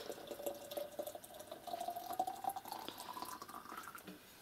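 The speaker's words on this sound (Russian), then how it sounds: "Давай я налью." Water pours steadily into a vessel, a continuous splashing flow whose pitch rises gradually as it fills, heard close and fairly quiet.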